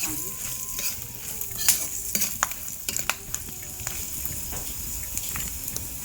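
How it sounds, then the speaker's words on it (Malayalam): Chickpeas sizzle and fry in a hot pan, with scattered sharp pops and crackles over a steady hiss, fairly close. "കടല ഇങ്ങനെ വറക്കുമ്പോൾ ഇതിന് പൊട്ടും"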